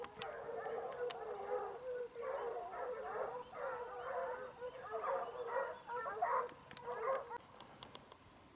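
Pack of Ariégeois hounds baying while hunting hare in the Drôme Provençale countryside, a faint, distant chorus of repeated yelping cries carrying across open ground.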